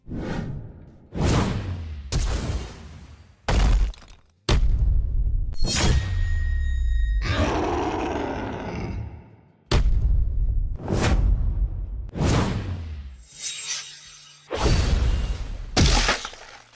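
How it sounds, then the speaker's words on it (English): Ground shattering into cracks under the heavy blow of a dragon's talons, rendered as a series of loud, abrupt crashing and breaking bursts with whooshing rushes between them, close and forceful across the whole stretch. "the spilling shockwave also shattered the ground into cracks"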